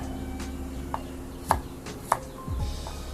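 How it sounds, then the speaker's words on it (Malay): Three ulas of garlic sliced with a knife for Malaysian nasi goreng kampung, giving a few separate sharp board taps about half a second apart, fairly quiet over a steady background hum. "Kemudian Dayang potongkan juga bawang putih."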